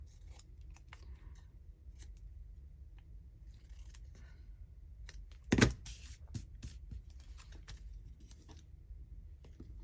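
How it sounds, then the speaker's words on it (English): Scissors snipping paper pieces for handmade transparent glassine bags, a few quiet crisp cuts with one sharper snip midway, close and faint over a low background hum. "I'm cutting them out because I might need them for the others anyway, so then they're already cut."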